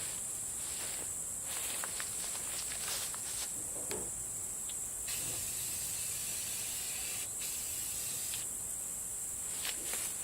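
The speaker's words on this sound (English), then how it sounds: "So now I'm going to start spraying." Rust-Oleum primer sprayed from an aerosol can onto the auger housing of a John Deere 328 square baler, a steady close hissing stream in long bursts broken by brief pauses, with faint scuffs in the background.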